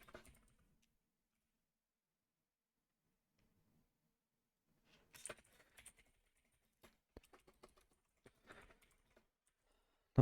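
Sparse computer keyboard typing, a few scattered clicks and short bursts of keystrokes at a desk during game design work, with long quiet gaps between.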